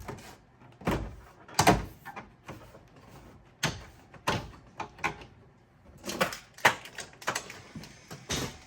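Prying the factory head unit bezel out of a 2006 car's dash: irregular close plastic clicks, snaps and knocks with quiet gaps between them.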